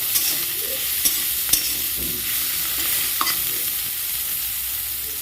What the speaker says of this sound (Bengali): বরবটি ভাজতে বেশি সময় লাগে না, অল্পেতেই ভাজা হয়ে যায়।